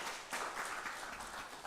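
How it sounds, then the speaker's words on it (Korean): Applause from a church congregation welcoming a guest during a Sunday service, a soft steady patter of clapping over a short stretch, fairly faint and distant. "한번 일어나주시면 박수로 환영합니다"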